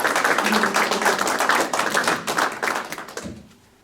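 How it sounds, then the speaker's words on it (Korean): Encouraging applause from a conference audience for a speaker at an international Northeast Asia peace conference in Korea; steady, close clapping that holds for about three seconds, then quickly tapers off into quiet. "격려의 박수 한번 부탁드립니다."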